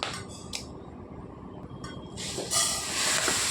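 Foxtail millet grains tipped into a dry pan for roasting, giving a scattered hissing patter that swells in the last second, with a steady background rush and no talking.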